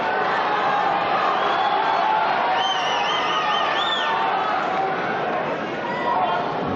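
Crowd murmur and chatter at the 1998 Masters snooker final between Stephen Hendry and Mark Williams, a steady, fairly loud hubbub of many voices filling the arena throughout, with a commentator's voice audible over it.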